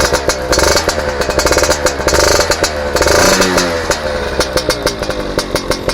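A Yamaha FizR motorcycle engine, late-generation 2021 model, idles close by with a loud rapid two-stroke putter and is blipped in short throttle bursts that rise and fall, with no voices.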